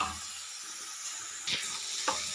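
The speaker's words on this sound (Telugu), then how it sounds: "ఈ విధంగా బాగా ఫ్రై అయ్యాయండి ఇవి." Vegetables for ridge gourd chutney fry in a pan with a steady, close sizzling hiss, broken by a couple of brief sharper crackles as they are stirred; no voices.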